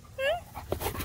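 A tired female dog whimpers in a high, wavering whine, followed by short yips, close by while someone talks to her.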